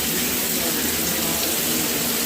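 Water streams steadily from an LED rain shower head, giving a dense, constant hiss and spatter that stays even throughout with no pauses.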